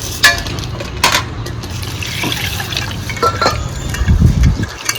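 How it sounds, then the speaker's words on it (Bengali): Red lentils swished and rinsed by hand in a bowl of water, with soft sloshing, gentle drips and a fuller splash of water near the end, fairly close and alone without talk. "এক বাটি মুসুর ডাল নিয়েছি ডালটাকে আমি এখন ধুয়ে নেবো"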